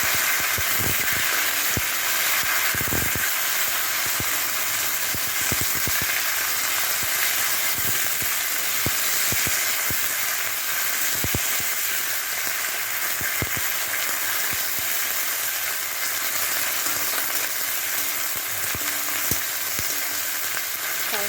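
Spinach fries in a pan for masoor lentil dal, giving a loud, steady close sizzle that runs throughout, with occasional sharp clicks of stirring against the pan and no one speaking.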